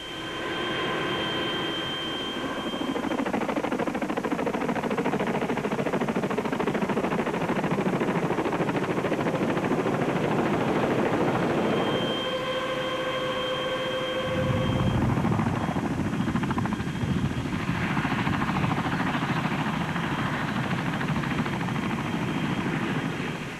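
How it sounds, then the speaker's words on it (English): Military transport helicopters flying during a 2001 Marine squad exercise, a steady loud rotor and engine roar that holds throughout, shifting in pitch midway as the aircraft move. "these guys are riding in helicopters that are older than they are"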